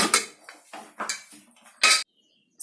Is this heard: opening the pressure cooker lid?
yes